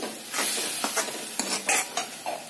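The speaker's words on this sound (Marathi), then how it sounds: "थोड्या वेळातच आपण ह्या टोमॅटोला तेलामध्ये असं परतवून घेणार आहोत" Chopped tomatoes are sautéed in hot oil for paneer tikka masala, with a steady close sizzle broken by several scraping strokes of a spoon stirring through the pan.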